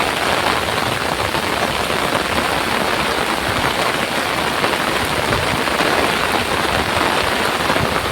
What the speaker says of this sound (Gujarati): ઘણો વરસાદ છે ચાલુ હાલમાં અંદર